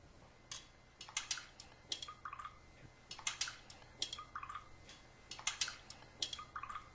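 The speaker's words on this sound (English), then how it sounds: "Now let me stir these up real quick." Spoons stir cups of bottled waters and tap water, giving faint, irregular clinks and taps against the cups in scattered bursts, with no voices.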